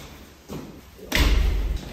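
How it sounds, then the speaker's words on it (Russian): A door is pushed shut, giving a soft bump followed by a heavier thud that stays close; no one speaks over it. "Дверь закрывай, Макс, она сама не закроется."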